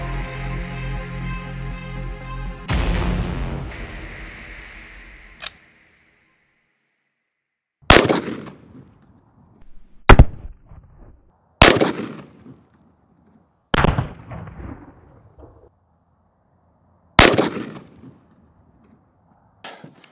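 Gunshots strike a ceramic body armor plate backed by clay, with sharp, loud, separate reports spaced a few seconds apart after an earlier burst of mechanical noise, each shot decaying quickly into quiet.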